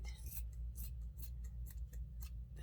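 Scissors trimming the arm of a Dollar Tree craft gnome, making a series of crisp, close snips in a quick rhythm under a low background hum.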